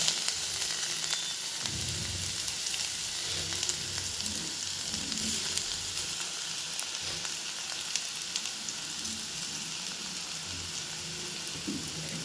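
Grated radish with cumin seeds and a pinch of asafoetida sizzles steadily in hot oil, a continuous close frying hiss with occasional stirring scrapes throughout.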